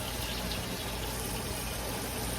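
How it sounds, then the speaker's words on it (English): Water pouring steadily into a canning pot holding jars of peeled tomatoes, a continuous broadband rushing that stays even and fairly quiet throughout with no talking. "I need to add more water to that pot."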